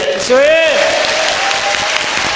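Audience applause at a congregation gathering, a steady wash of clapping that runs the whole time beneath a raised, sing-song voice.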